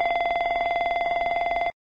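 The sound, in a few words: aircraft cockpit fire warning bell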